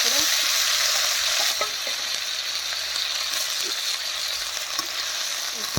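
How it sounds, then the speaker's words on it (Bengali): Paneer fries in hot oil in a pan over a clay stove, giving a continuous loud sizzle and crackle with occasional small pops throughout. "পনিরটা এখন ভেজে নিচ্ছি তেলের"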